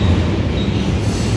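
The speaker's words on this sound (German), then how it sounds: "Gerade raus fährt schon direkt so ein Güterzug für den einen Kollegen." A freight train pulls out of a station with a loud, close, continuous rumble of wheels and cars, plus a faint high squeal; no speech.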